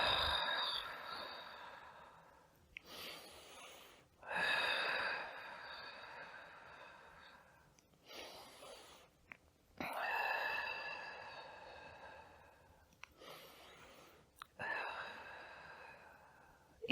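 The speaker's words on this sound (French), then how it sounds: "On va faire 4 respirations profondes." Slow, deep breaths during an upper-body stretching routine: four long, soft inhale-exhale swells with quiet pauses between them, close and gentle.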